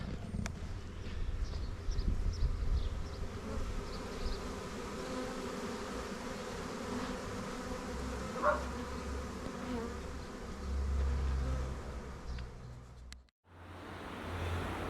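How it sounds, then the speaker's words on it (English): Steady insect buzzing from bees fills the scene, a continuous drone with a low rumble underneath, ending in a brief cut to quieter ambience. "I'll leave you with one more shot of these bees."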